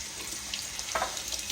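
Cold tap water runs steadily over eggs in a bowl at a kitchen sink, a soft continuous splashing hiss with a few brighter spatters.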